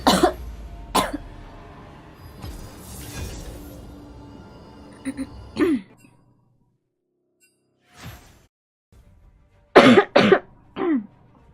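A girl coughs in several separate bursts: a harsh cough at the start, another about a second later, then more at intervals, ending with a close, loud cluster of three rapid coughs, with quiet gaps between.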